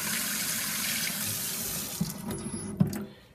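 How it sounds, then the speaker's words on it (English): Steady running water from a tap splashing into a dish used for cleaning makeup brushes, continuous and close, with a couple of soft clinks near the end as the flow tapers off. "add a little water"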